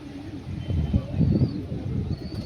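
Malwai pigeons coo in low, throaty pulses, close and moderately loud, a few overlapping calls over a short stretch.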